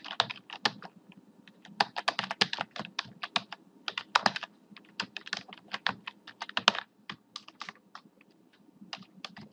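Rapid, uneven clatter of keys on a computer keyboard as text is entered for a Photoshop banner design, close and clear, in quick bursts with short pauses and no talking.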